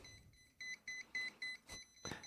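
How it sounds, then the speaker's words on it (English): A breathalyzer gives a short series of about six clipped electronic beeps in an even rhythm, fairly faint and close, with no talking over them. "constant beeping is danger, Will Robinson, danger"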